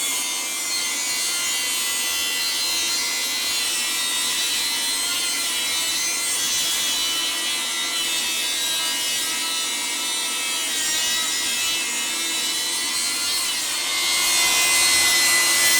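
A Milwaukee Fuel cordless 8-1/4 in. table saw cuts about an inch off a 2x4, giving a steady, loud, high whine with the grind of the blade through wood. It holds for the whole stretch and swells slightly near the end, with no talking.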